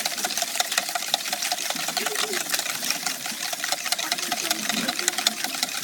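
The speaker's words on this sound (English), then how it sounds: "And then again, whisk that in so it's light and fluffy." Cake mixture for a Yule log being whisked until light and fluffy, a continuous buzzing, motor-like whir that stays loud and steady throughout.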